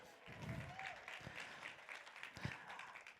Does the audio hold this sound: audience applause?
yes